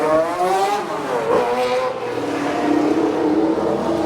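Race cars at Goodwood pull away from the start, a loud, steady roar of engines revving and accelerating with rising pitch, and a faint tire squeal near the start.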